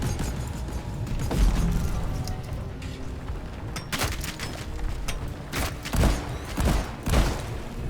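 Gunfire and heavy booms in the video game Deep Rock Galactic, a dense, busy mix of repeated shots and thumps over about eight seconds, with louder impacts toward the end.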